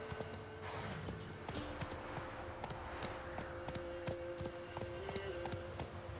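A horse gallops in The Witcher 3, its hooves clopping in a quick, steady rhythm under a constant background bed and faint tones, with no clear voices.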